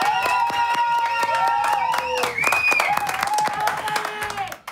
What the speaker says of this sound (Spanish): Y ahora sí, me voy para el living a recibir a mis invitados con mucho aplauso